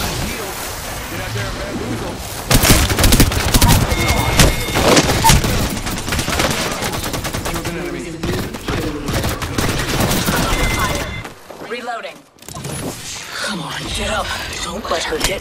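Sustained automatic gunfire in a squad firefight in the battle-royale game Apex Legends, loud bursts layered with booms and a brief lull before shooting resumes, with voices speaking throughout.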